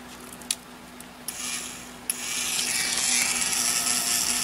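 An electric nail drill fitted with a nail drill bit gives a steady high whine that grows louder and rougher partway through, with a few light clicks as the bit touches the nail.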